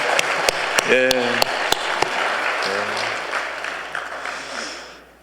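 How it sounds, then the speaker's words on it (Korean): A church congregation claps steadily, a broad wash of applause that slowly fades out, with a voice briefly speaking over it, during a Sunday service. "박수로 우리 한 번 더 격려해 주시기 바랍니다"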